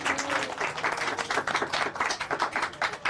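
An audience on a Marathi TV game show breaks into loud, sustained clapping, a dense continuous patter of many hands that stays even throughout with no voices over it.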